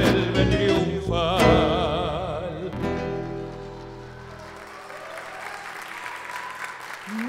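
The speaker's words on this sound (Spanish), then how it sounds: "Muy, pero muy fuerte el aplauso." Music ends after a tango performance in Argentina and a crowd breaks into loud, sustained applause that gradually thins out over several seconds.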